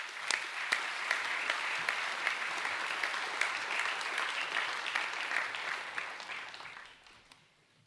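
At a school academic awards evening, an audience claps for Year 11 vocational education students leaving the stage, sustained even applause from a large crowd with a few sharper nearby claps, fading out at the close.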